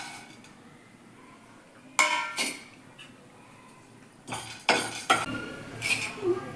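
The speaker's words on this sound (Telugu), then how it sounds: "ఇప్పుడు మర్మరాలు వేయించుకుందాం." Puffed rice being roasted in a pan in a home kitchen, heard as bursts of scraping, rattling stirring against the metal pan separated by quieter stretches, close and moderately loud with no talk.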